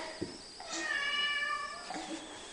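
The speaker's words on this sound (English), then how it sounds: "Is he meowing at you?" A single drawn-out cat meow rises and falls, heard fairly close in a quiet room, followed by a faint shorter chirp.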